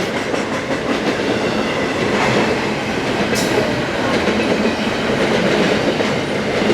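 The tail end of a freight train rumbles past on the rails with steady clickety-clack of wheels and a brief high squeal, loud and continuous throughout.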